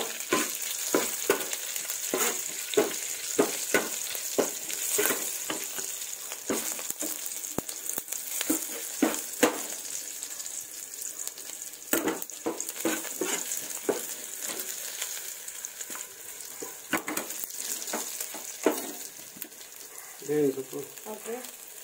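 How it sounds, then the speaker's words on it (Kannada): Garlic fries in a pan for a stingray fish curry, giving a continuous sizzle broken by frequent scraping stir strokes. A voice speaks now and then over the cooking. "ಬೆಳ್ಳುಳ್ಳಿ ಫ್ರೈ ಆಗ್ತಂತ."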